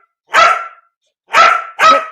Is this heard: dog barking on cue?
yes